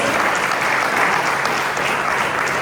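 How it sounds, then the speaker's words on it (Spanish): Church congregation applause at a morning service, a dense, steady wash of clapping from many hands, loud and uninterrupted throughout. "Un aplauso al Señor esta mañana."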